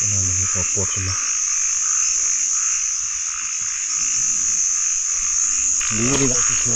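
Narrow-mouthed frogs croaking in the rain, a steady chorus of loud repeated croaks over constant rain hiss, with brief bursts of nearer calls at the start and end.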